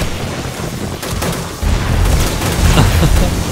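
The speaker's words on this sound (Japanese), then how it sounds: "何された、なんか爆発したけど" An explosion in the zombie survival video game 7 Days to Die booms within dense, noisy game audio, with a heavier low rumble swelling after the first moments.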